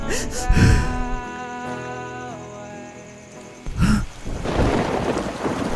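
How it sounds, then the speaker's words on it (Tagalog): Heavy rain falls with thunder, giving low rumbling bursts near the start and again partway through, above a steady wash of rainfall and under a sustained musical backing. "Umuulan."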